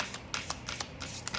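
Tarot cards are shuffled by hand in a quick, quiet run of soft riffling bursts, close and alone.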